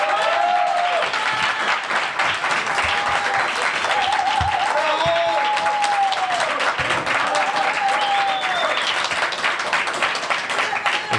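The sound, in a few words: audience applause welcoming Juan Grabois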